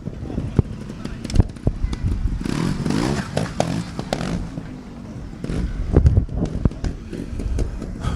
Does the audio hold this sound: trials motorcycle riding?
yes